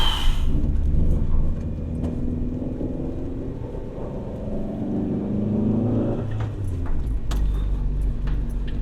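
A small car's engine labours up a steep climb near Achmelvich Beach in low gear, a continuous loud droning rumble that rises and shifts in pitch, with faint rattles from inside the cabin.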